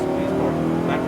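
A Lamborghini Huracan engine pulls steadily as the throttle opens, a smooth, sustained tonal drone close by with no breaks, a voice faintly present underneath.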